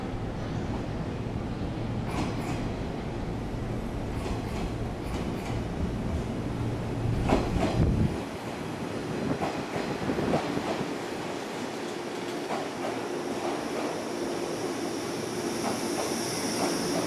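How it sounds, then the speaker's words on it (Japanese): A JR East 185 series train rolls into Ueno Station, rumbling and clattering over the rails, then slows with faint wheel squeals and a high whine as it settles at the platform. "後ろから列車が参ります。"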